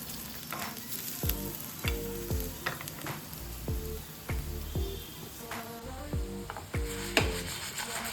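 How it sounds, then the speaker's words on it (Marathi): Paneer fries in a pan for paneer thecha, a steady crackling sizzle with repeated scraping turns of a spatula, close and moderately loud, and no talking. "तुम्हाला याच्या आवाजावरून समजलंच असेल की हे किती छान क्रिस्पी झाले आहेत."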